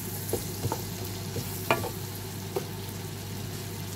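Butter and a bouillon cube stirred in a pan while cooking mussels: a soft steady sizzle under occasional scraping taps of the spoon against the pan, quiet and close.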